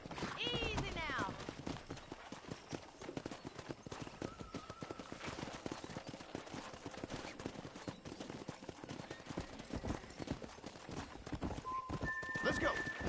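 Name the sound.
wild horses galloping in Red Dead Redemption video game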